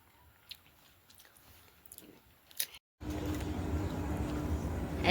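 Chewing and biting during a very spicy rice meal with chili-laden food, faint soft crunches and mouth sounds at first, then a sudden loud, dense rumbling wash of noise after a brief silence.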